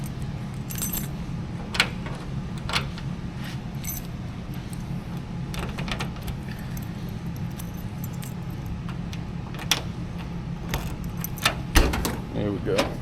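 Keys on a ring of about nine jangle and click near the trunk lock of a 1967 Cadillac Deville, with sharp metallic taps scattered through the clip over a steady low background hum.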